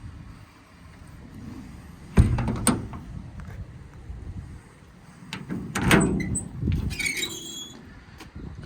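Storage drawers on a 2018 Ram 5500 crew cab service body slide and latch, giving two clusters of close sliding rumbles with sharp clacks, the second set longer and ending in quick metallic clicks.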